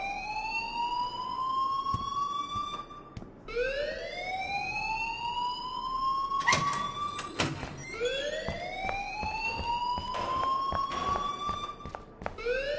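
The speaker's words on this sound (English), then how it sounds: "please turn off that alarm since that's your job" Repeated rising electronic siren-like alarm wails through a school hallway in the Life is Strange video game, each sweep climbing in pitch and sustained, fairly loud and continuous with brief gaps.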